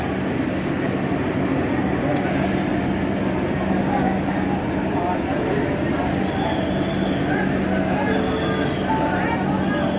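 Trains at Santahar railway junction, a continuous low rumble of rolling stock with a faint tonal hum and distant squeals, over a busy platform with people talking in the background.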